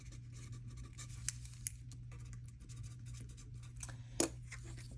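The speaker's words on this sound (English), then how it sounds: "So we'll write that on here." A pen scratches steadily across a paper board, soft and close, with a few sharper taps and strokes over a constant low electrical hum.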